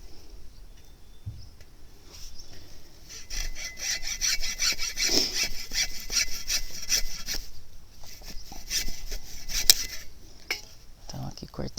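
Rasping strokes cut cassava stems into planting pieces, close and steady for several seconds, with speech in the pauses.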